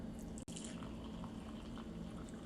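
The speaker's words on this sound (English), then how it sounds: "we're gonna use this little cutie cup that I repurposed from a candle. And we're gonna pour" Matcha is poured into a small cup repurposed from a candle, giving a faint, steady, continuous liquid sound up close, with no talking.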